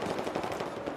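Continuous rapid machine-gun fire rattles in Battlefield 4, a dense unbroken burst that stays loud throughout the brief moment, with no speech.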